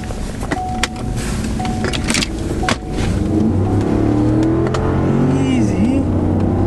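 A pickup truck fitted with new tires and wheels pulls away on a test drive, the engine revving and rising in pitch as it accelerates nearby, with a few clicks and thuds before it and people talking over it.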